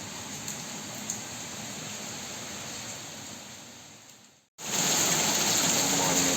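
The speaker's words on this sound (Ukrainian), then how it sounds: "Гляньте на цей дощ." Heavy rain on a country garden plot pours in a dense, steady hiss, cuts out briefly, then returns even louder.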